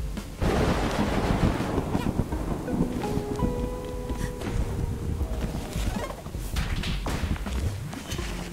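Lightning strikes and thunder in the video game A Hat in Time: a dense, rolling rumble that holds steady throughout, mixed with sustained tonal game music and a few sharper crackling bursts.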